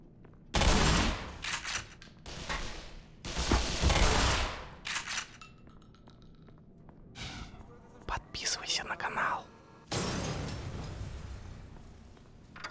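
Several loud, broad crackling blasts from a tau cannon in the video game Black Mesa come in uneven bursts, separated by quieter moments with faint hums and clicks.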